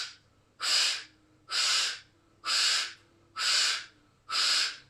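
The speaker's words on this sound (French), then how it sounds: "Et je souffle quand je tire." Five strong, forceful exhales come at an even rhythm, about one per second, each a breathy rush of air pushed out while the elbows are pulled back during a back exercise, very close to the microphone.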